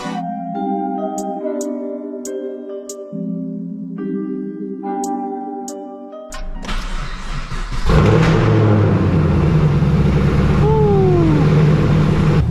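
Fifth-generation Chevrolet Camaro SS idling after a radiator hose repair to circulate coolant, a steady, loud, close engine drone that starts after a stretch of music and continues without talk.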